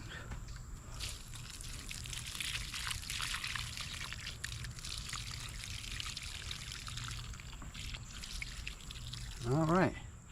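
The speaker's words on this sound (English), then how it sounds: "And give it some water." Water pours from a watering can onto a freshly transplanted plant in a fall seed bed, a steady close trickle and splash that stops just before a voice speaks briefly.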